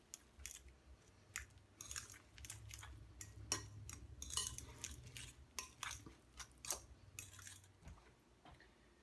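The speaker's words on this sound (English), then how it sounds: "Now let's add some almond flour. Give it a stir." Almond flour being stirred into vegan, gluten-free muffin batter in a bowl, faint close scraping and clinking of a utensil in irregular strokes with soft thuds, no talking.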